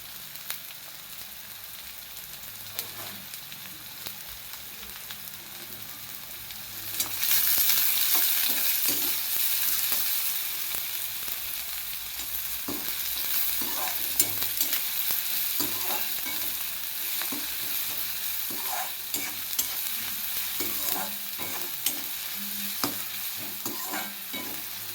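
Onions sizzling in a pan for a chickpea usal, with a steady fry hiss that swells partway through and repeated scraping stirs of a spatula over it, no talk.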